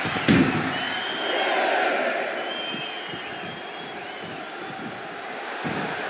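Arena crowd in the WWE 2K26 wrestling game roars and cheers in a sustained wash of noise, swelling early and then holding steady, with a sharp slam near the start and a commentator talking over it.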